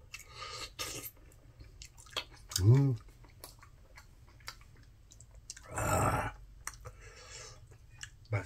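Chewing and slurping while eating black bean noodles and eel fish cake, with a few wet mouth sounds standing out between quieter moments, close to the mic and under occasional background noise.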